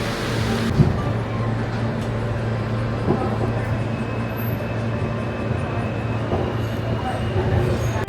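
A New York subway train rumbles steadily with a constant low hum and faint rattles and squeaks of the cars, and no one speaks.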